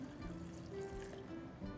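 Filtered water pours into a container of roasted vegetable dip ingredients in a short, quiet, steady trickle with faint gurgling, close by and without speech.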